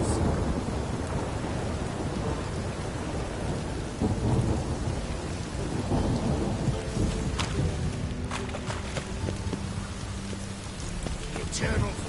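In Witcher 3, rain pours steadily on surfaces while thunder rumbles and cracks through the storm, with scattered sharper impacts later on and no pause in the downpour.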